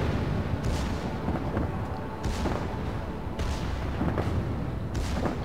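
Secondary guns fire at a submarine during a naval battle in World of Warships, giving repeated booming shots about once a second over a constant low rumble of battle noise.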